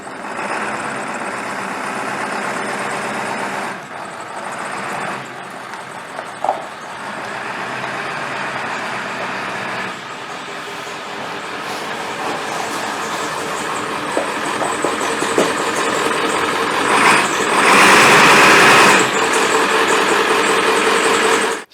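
The diesel engine of a 1995 ambulance runs in a long, steady, rough drone that swells louder near the end, close by and alone with no talk.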